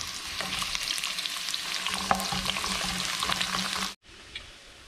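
Julienned onion browns and sizzles steadily in a hot pan, a constant crackling fry with occasional stirring clicks, cutting off briefly near the end.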